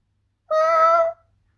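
A single short cat meow, clear and fairly close, standing alone in otherwise quiet surroundings.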